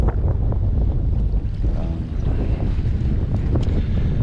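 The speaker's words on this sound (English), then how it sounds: "This wind is blowing a bunch of crap all over the place" Strong wind blows over a lake in December and roars into the microphone as a loud, continuous rumble. Faint splashes of water can be heard from a kayak being used for trout trolling.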